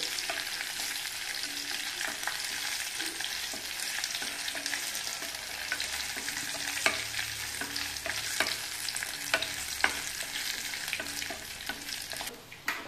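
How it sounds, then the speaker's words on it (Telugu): Curry leaves and tempering spices frying in hot oil for a roasted white brinjal chutney, a steady dense crackling sizzle with sharp pops scattered throughout, close and alone, fading near the end. "పోపు కాలిపోయింది, అయిపోయింది"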